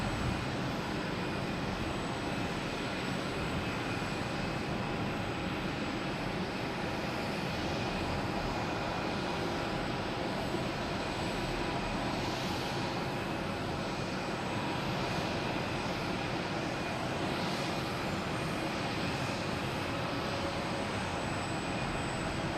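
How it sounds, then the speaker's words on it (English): A Cape Air plane arriving from Rutland at Boston Logan, a steady distant engine drone with a thin sustained high tone, continuous and unbroken, no voices over it. "It's a Cape Air coming in from Rutland."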